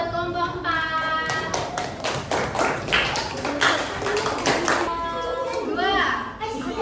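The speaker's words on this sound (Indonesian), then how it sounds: "Kasih tepuk tangan buat kelompok 4." Children applauding in a second-grade classroom for group 4, a lively mix of many small hands clapping and tapping throughout, with children's voices chattering over it.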